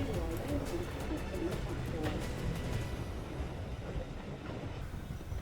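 Steam train on the Churnet Valley Railway running between Cheddleton and Froghall in Staffordshire, a steady rumble with faint rhythmic wheel clicks and some birdsong, fading slightly toward the end.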